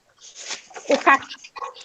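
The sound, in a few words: dog whimpering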